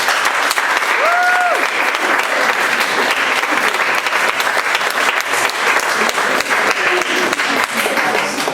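An audience at a debate on masculinity claps in a sustained, dense round of applause, loud and even throughout, with a short whoop near the start.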